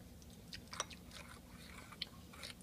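Close, wet chewing and a few crunchy bites of a waffle topped with peanut butter and syrup, irregular mouth sounds with no talking.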